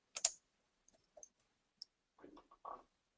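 Several sharp, quiet computer mouse clicks sound in near silence, spaced irregularly, with faint small rustles between them.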